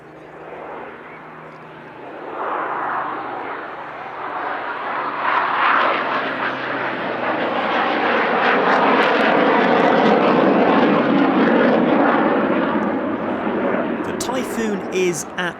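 A two-ship aircraft formation passes at the Midlands Air Festival airshow, a deep engine drone that swells from moderate to loud and holds near its peak, with a voice talking over it.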